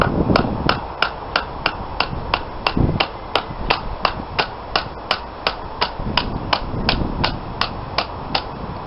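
Knife batoned through wood on a board, a quick series of sharp, evenly spaced knocks, each crisp strike close and distinct, repeating steadily with no talk.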